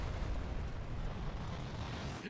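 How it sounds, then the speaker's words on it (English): A fuel tank explodes in the video game Sniper Elite 3, a loud sustained roaring blast with deep low rumble that holds for about two seconds before cutting off abruptly. "Explosion."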